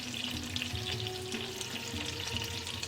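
Oil heats in a hot cast iron fajita pan, giving a steady, fairly quiet sizzle that runs without a break from start to end, with no voices.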